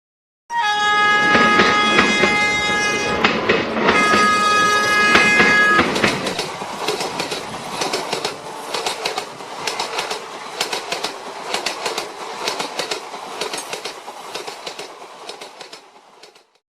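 A train passes close by, its horn blaring at first, then wheels clatter rhythmically over the rails as the rumbling fades away.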